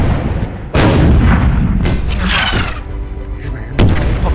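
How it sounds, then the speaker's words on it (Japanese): Artillery cannons fire in a war movie battle scene: loud, close booms strike at intervals over a dense rumbling background of explosions and gunfire, with no talk. "日本人在炮兵阵地开炮。"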